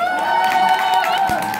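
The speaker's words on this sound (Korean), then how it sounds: "박수!" A concert crowd applauds and cheers steadily throughout, a dense wash of clapping with a few voices rising above it.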